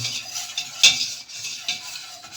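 A spoon stirs flour roasting in a pot for Turkish tongue soup, giving a few quick scraping strokes and light clinks against the pot, close and clear with no talk.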